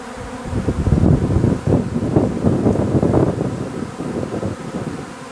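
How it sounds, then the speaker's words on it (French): A honeybee swarm pours out of a hive on a fine May day, a dense, continuous buzzing hum of many bees close by, steady throughout with some wind noise on the microphone. "J'ai vu de quelle ruche est sorti l'essaim."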